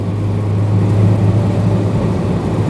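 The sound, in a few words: early Peugeot 504 pickup petrol engine accelerating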